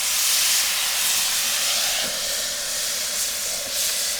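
Loud, steady steam hiss as water hits a hot griddle under a burger patty topped with jack cheese, sizzling continuously throughout with slight surges and no talking.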